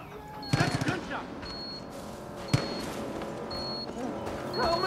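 Gunfire in the video game Far Cry New Dawn sounds as a couple of sharp, loud shots separated by a couple of seconds, over a busy game background with voices talking.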